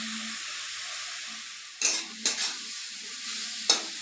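Leafy greens fry in a pan with a constant soft sizzle, broken by a few sharp scraping stirs of a spatula against the metal, close by and with no talk.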